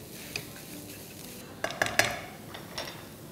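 A utensil stirs crumbled paneer with red chili powder and garam masala in a pan for paneer bhurji, giving faint scraping and a quick cluster of sharp metallic clinks in the middle, then one more soft tap.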